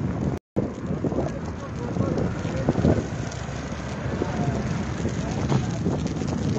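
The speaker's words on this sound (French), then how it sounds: "Ah, le vent il est pas terrible là." Wind buffets the microphone at a fishermen's protest on a roundabout in Lorient, a rough, continuous rumble with gusty bursts, under a voice.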